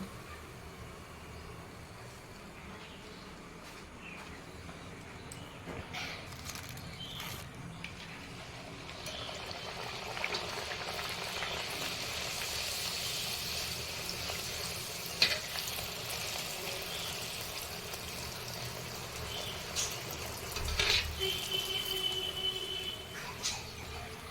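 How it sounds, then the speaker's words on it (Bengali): Luchi fry in a large batch of hot oil in a temple kitchen during a morning Snan Yatra puja at the Annapurna temple, a steady close sizzle and bubbling with occasional clinks, no voices. "সকাল সকাল লুচি ভাজা শুরু করে দেওয়া হয়েছে"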